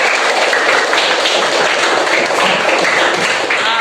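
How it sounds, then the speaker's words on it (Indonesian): Classmates in a primary school classroom clap for a presenting group, a busy, fairly loud patter of hands that runs continuously without pause. "Tepuk tangan untuk kelompok 1"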